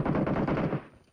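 Automatic gunfire in PUBG Mobile on the Erangel map, a rapid close burst of shots lasting under a second before fading into a short decay.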